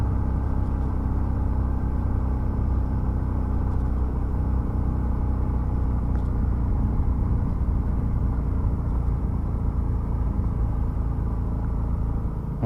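A motorcycle geared with a 14/36 sprocket combination climbs a steep uphill road in third gear, its engine a steady, labored low rumble throughout, with no voices.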